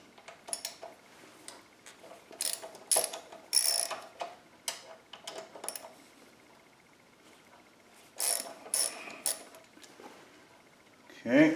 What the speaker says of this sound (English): we'll loosen the pinch bolts and I'll rock it